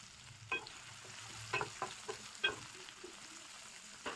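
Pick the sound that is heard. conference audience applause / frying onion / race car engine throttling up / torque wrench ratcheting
frying onion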